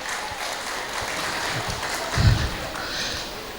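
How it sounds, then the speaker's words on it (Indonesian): A school audience applauds the headmaster at an SDIT graduation and Qur'an ceremony. Steady, moderate clapping from many hands carries throughout, with a brief low thump near the middle. "Tepuk tangan ini tenanan ya Bapak Ibu."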